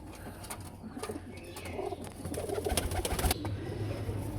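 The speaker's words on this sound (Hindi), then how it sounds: "ये कबूतर है वो पीछे उसकी मादी बैठी हुई है।" A pigeon coos up close in a breeding enclosure, with its female sitting nearby, sending out soft, repeated throaty coos over a low, rumbling background.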